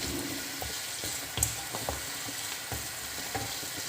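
Cabbage balls simmer in a bubbling masala gravy as a spoon gently stirs, giving soft repeated knocks and scrapes over a steady low sizzle, close and quiet with no talking.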